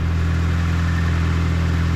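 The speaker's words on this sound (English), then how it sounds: "I got the truck running" A 1992 Toyota pickup engine runs loud inside a shop with an exhaust leak: a steady, close, droning idle with a deep throbbing rumble and no voices.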